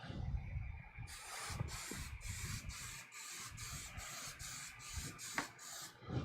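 Creality CR-10S Pro 3D printer running, with a steady mechanical whir and a regular train of rapid stepper-motor pulses, close and moderately quiet.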